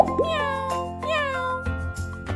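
A domestic cat meows twice in quick succession, close and clear, each meow rising then falling, followed by faint background sounds.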